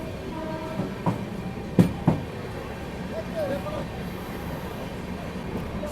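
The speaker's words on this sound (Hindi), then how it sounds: "अभी अपनी ट्रेन पहुँच रही है नासिक रोड रेलवे स्टेशन पर" Superfast express train pulling into Nashik Road station: a continuous low rumble with a few clanks and knocks, heard from on board, while someone talks over it.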